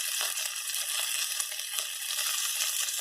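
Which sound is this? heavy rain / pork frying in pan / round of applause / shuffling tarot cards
pork frying in pan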